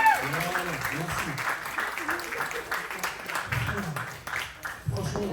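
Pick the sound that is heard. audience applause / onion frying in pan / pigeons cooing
audience applause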